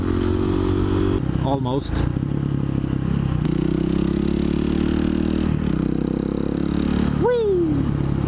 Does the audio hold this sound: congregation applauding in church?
no